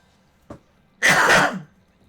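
A single harsh cough bursts out alone and close, about half a second long, after a brief throat sound, during a casual Mario Kart 8 Deluxe gaming session.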